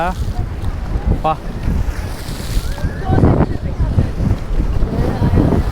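Rough sea water surging and crashing against the waterfront at Gateway of India, Mumbai, a steady loud roar with wind buffeting the microphone and boats nearby.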